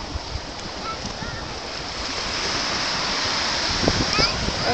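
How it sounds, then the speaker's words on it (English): Sea waves wash on New Year's Day while children splash and play in the water, a loud constant rush of surf with scattered splashes and faint voices mixed in, growing slightly louder toward the end. "The children playing in the sea."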